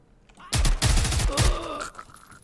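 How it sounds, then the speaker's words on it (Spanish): Gunfire from the tactical shooter game Zero Hour as shots hit walls: a sharp burst of rapid automatic fire lasting about a second, loud and close, followed by fading echoes and debris. "vamos a ver cómo disparamos a las paredes"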